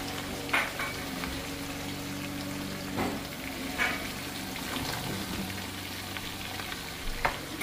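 Onions fry in a pan with a quiet, even sizzle, punctuated by a few soft clinks and stirring scrapes at intervals.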